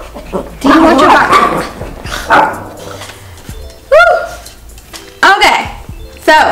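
Indoor dog barks come in bursts: someone speaks through the first few seconds, then loud single barks and yips sound close by at irregular intervals.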